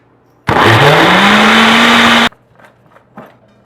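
A blender whirs loudly for about two seconds, blending a smoothie of cucumber, banana, garlic, kale, hemp seeds and strawberries, its motor pitch rising as it spins up, then stopping abruptly before a few faint clinks.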